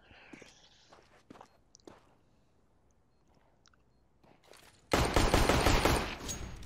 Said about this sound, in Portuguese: somente o Clássia vivo, tomando tiro de todo lado